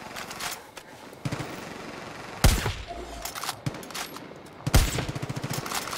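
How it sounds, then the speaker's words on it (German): Gunfire in the shooter Far Cry New Dawn: two heavy, close blasts a couple of seconds apart, each followed by a rapid rattling burst, with lighter shots and game clatter between them. "Oh, schieße ich gerade mit der falschen Munition?"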